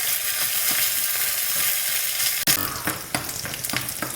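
Shallots, dried red chilies and curry leaves crackle and sizzle in hot oil with spluttered mustard and fenugreek seeds for a Kerala sambar tempering, a dense close frying hiss with a few sharp pops and stirring knocks.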